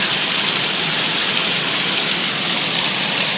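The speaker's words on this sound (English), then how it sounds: "Kind of like a little stream here." A small stream rushes close by on its way to a waterfall outdoors, a loud, steady broadband splash and hiss of water with no talking.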